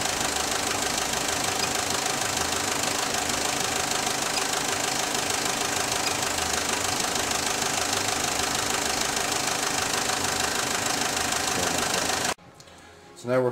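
A 2005 Fiat Scudo with a 1.9 common rail diesel engine idling, a steady close mechanical clatter with fine rhythmic knocking, continuing evenly before cutting off near the end.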